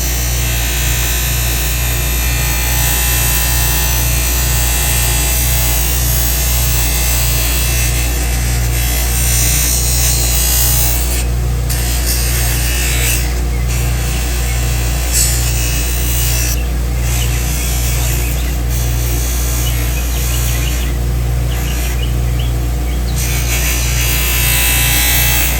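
A buffing wheel runs against a pipe stem charged with carnauba wax, making a loud, continuous electric whir with a steady low hum that never breaks throughout.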